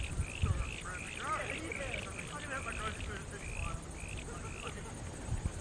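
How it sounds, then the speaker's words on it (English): Frogs croaking in a small swampy wet area along a hillside trail near Christchurch, a series of short chirping calls repeated across the clip, faint under someone talking nearby and some wind. "There's frogs in this wee wet area here, this wee swampy area."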